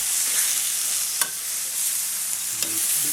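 Haloumi cheese and chicken frying in a pan, a loud, dense, continuous hiss of sizzling oil with a couple of faint utensil taps, close up with no voices.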